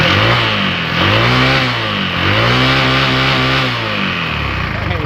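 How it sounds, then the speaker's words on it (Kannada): The LPG engine of a Bajaj auto rickshaw, with its filter removed, revs hard under the accelerator in several rising and falling surges, loud and close, with a voice speaking over it. "ಈಗ ಎಕ್ಸ್ಲೇಟ್ರ್ ಕೊಡ್ತೀನಿ ನೋಡ್ಕೊಳ್ಳಿ"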